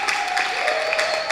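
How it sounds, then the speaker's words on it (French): Steady clapping from a church congregation at a worship service, a dense, continuous patter that holds at an even level throughout, with no speech over it. "continuez d'applaudir pour encourager la servante de Dieu"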